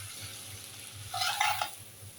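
Noodles with spices, vegetables and egg stirred in a pan over a low sizzle, a quiet scraping and tossing rising briefly in the middle of a faint frying hiss.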